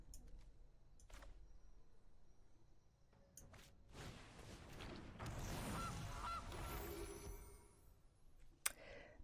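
The Gilded Goose card in the MTG Arena video game gives a faint, cartoonish goose honk amid soft game sound effects, whooshes and clicks, with no talking.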